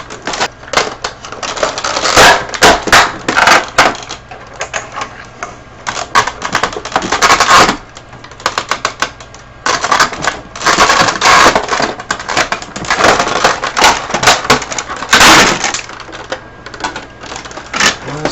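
Plastic casing pried and snapped off an Epson Stylus NX230 printer: loud, dense cracking, clicking and crunching that goes on continuously at close range.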